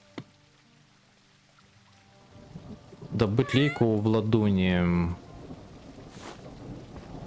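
Steady rain hiss with a faint thunder rumble in the video game Elder Legacy runs throughout, and a person speaks briefly in Russian over it in the middle.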